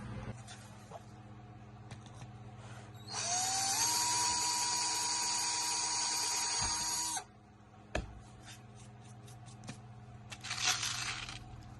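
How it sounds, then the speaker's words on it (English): A high, whining drill bores a tiny starter hole in RV slide edge trim, running steadily for about four seconds, then stops, with faint clatter and a brief knock afterward. "let's drill a tiny little starter hole to make it easier."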